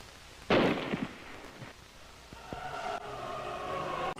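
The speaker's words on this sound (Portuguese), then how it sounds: "O Mickey vai se alistar e depois vai para a guerra, onde ele acaba levando um tiro na cabeça." A single sharp gunshot cracks early in a Mickey Mouse cartoon short, followed by a few smaller knocks and a rising sustained tone, no talking.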